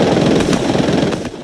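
Loud rapid gunfire from players battling in the video game Fortnite, a dense automatic burst with a couple of sharper cracks, steady throughout and free of speech.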